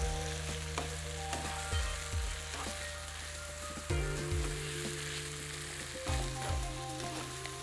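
Cabbage rice with tomatoes and garlic is stir-fried in a wok. There is a steady loud sizzle, and repeated bursts of stirring and scraping come every couple of seconds over a low background hum.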